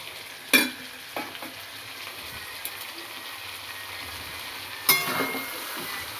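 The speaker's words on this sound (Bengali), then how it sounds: "এবার আবার একটুখানি নেড়ে নিচ্ছি ভাতের সাথে।" Fried rice is stirred in a pan over a low, steady sizzle, with a couple of sharp scraping clatters from the utensil and softer knocks between them, close by and with no talk.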